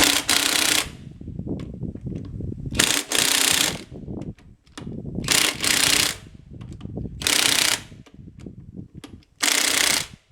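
A torque wrench tightens the clutch on a 671 sawmill engine, giving repeated loud bursts of harsh mechanical rattling about two seconds apart with quieter clunks between them.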